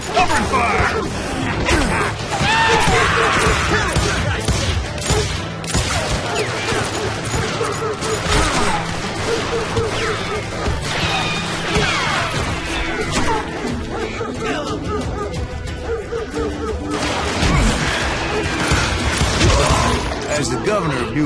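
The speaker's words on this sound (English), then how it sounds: "Covering fire!" Chaotic Wild West gunfight in the game Call of Juarez: Gunslinger, with dense overlapping gunshots, impacts and clattering mechanical noise filling the whole stretch, mixed with shouting voices and a loud music-like bed.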